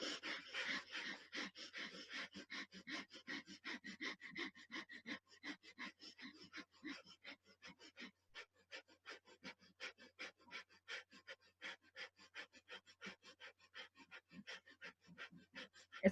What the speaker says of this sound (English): The breath is literally rapid. It's very constant.